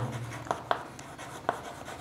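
Pen scratching on paper while a Class 6 math answer is written by hand: a steady faint rustle broken by a few sharper strokes, close and quiet, with no talking.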